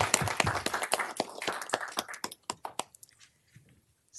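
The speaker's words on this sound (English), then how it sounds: "Can we give her a round of applause?" A city council meeting audience applauds an honored student, a short burst of scattered clapping that thins to a few separate claps within about three seconds, with near silence after.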